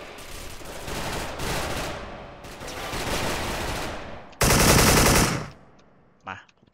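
Automatic gunfire from a Special Force online shooter game, rattling in dense sustained bursts with a short pause, then a louder, brighter volley before it cuts off, followed by a brief faint shot.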